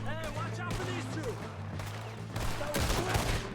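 Gunfire in the video game Red Dead Redemption 2, a rapid scattered fusillade of sharp shots with ricochet-like whines, under someone talking.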